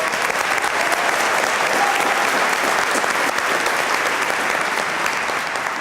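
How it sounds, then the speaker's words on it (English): A large crowd at a high school graduation ceremony applauds the principal, a thick, continuous roar of clapping that stays loud and level from start to finish. "Please give Mr. Huppert a round of applause"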